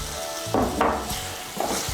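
Fried potatoes tipped into sizzling, oil-released masala in a pan, with a burst of frying hiss and clatter as they drop in, then steady sizzling and a second brief surge as they are moved about.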